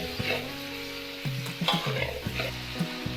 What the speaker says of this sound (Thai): แล้วเราก็ใส่เห็ดครับผม แล้วก็ผัดต่อไปนิดเดียวนะครับ ผัดต่อไปสักพักหนึ่ง